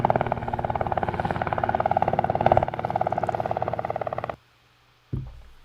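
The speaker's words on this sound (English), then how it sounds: "it's a helicopter" A helicopter's rotor chops steadily for about four seconds, then cuts off abruptly; after a short silence a low thump and rumble begin.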